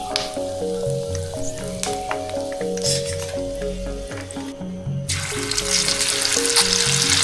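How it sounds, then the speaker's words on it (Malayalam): Curry leaves sizzle in hot sesame oil in a frying pan, a bright steady crackling hiss that swells louder near the end, with tonal music playing underneath. "എണ്ണ ചൂടായി കഴിഞ്ഞ് കഴിഞ്ഞാൽ അതിനകത്തോട്ട് കറിവേപ്പില ഇടുക"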